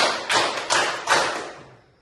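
A classroom of pupils claps together in a counting clap game: three sharp, unified group claps about half a second apart, followed by a fading room tail.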